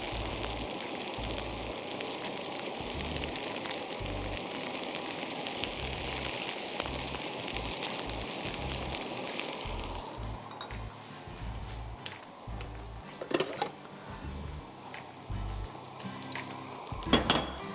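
Sliced okra fries in hot oil in a pan, a steady close sizzle with repeated scraping thumps from stirring; the hiss drops lower partway through while occasional sharp clinks of the spatula against the pan continue.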